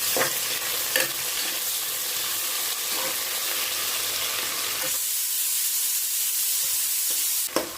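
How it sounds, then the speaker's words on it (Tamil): Onions sizzle and fry steadily in a hot pan for homemade mutton biryani, a continuous close hiss with occasional stirring scrapes, and the sound drops slightly softer near the end. "அடுத்தது நம்ம வெங்காயம் ஆட் பண்ணி வச்சோம்."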